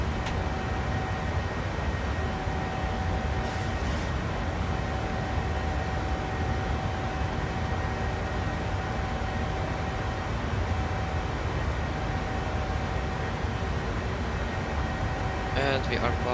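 A PMDG 737-800 airliner climbs in Microsoft Flight Simulator 2020, producing a steady, broadband cockpit engine and airflow roar with a faint constant tone, unchanging throughout, and speech present alongside it.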